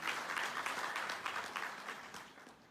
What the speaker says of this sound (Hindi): तो फ्री में आ रहा है तो तालियां तो बजती है भाई।